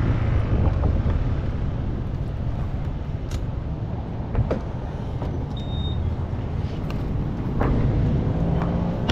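A motorcycle ride in Tarlac, Philippines, carries a steady roar of wind buffeting the microphone over a low engine rumble, continuous and fairly loud throughout with no talk.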